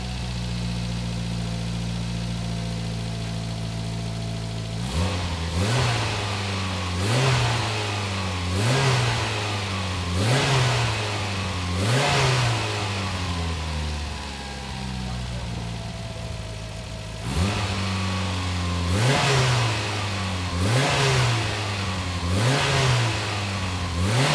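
A 2003 Mitsubishi Lancer Evolution VIII engine idles and then revs repeatedly in short rhythmic bursts, pausing in the middle before another series of throttle blips, loud and close throughout.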